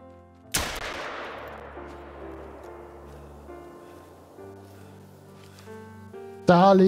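A single loud, sharp rifle shot at an animal in the hunting game theHunter: Call of the Wild, with a long echoing tail that fades into quiet game ambience and soft tones.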